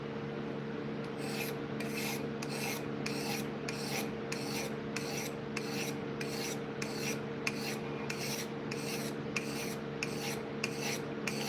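A blade's top side being sharpened by steady back-and-forth rasping strokes, about a dozen evenly spaced passes over a constant low hum, close and without talking.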